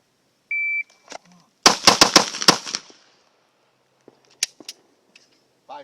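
A Glock pistol fires a rapid burst of about five shots in quick succession, loud and sharp, followed by a few fainter scattered clicks and a short electronic beep from a shot timer.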